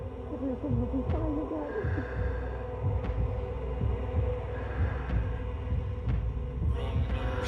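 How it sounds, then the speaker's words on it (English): In the Vampyr video game, a heavy heartbeat thuds at a slow, regular pace, roughly one beat per second, over a low droning hum in the game's London setting. No one speaks over it. "I see a heartbeat."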